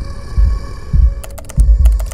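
A low, thudding heartbeat pulses in the horror game Lights Off, with about four soft double beats against a humming background and a burst of clicking ticks near the end.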